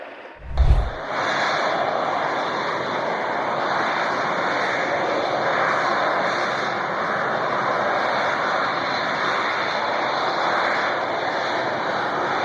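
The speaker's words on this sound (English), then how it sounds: "the world's largest helicopter," Mi-26, the world's largest helicopter, carrying a Su-27 jet, a loud continuous engine and rotor roar held steady throughout after a brief thump at the start.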